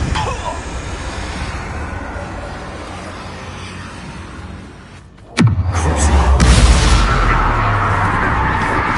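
A Bombarda blasting spell goes off in the Hogwarts video game. A sudden loud boom about halfway through gives way to a rumbling low roar and crackling debris. Steady game ambience fills the clip before the blast.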